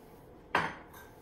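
Diced apple lands in muffin batter in a bowl with one soft, close thud, then a quiet settling tail with no voices.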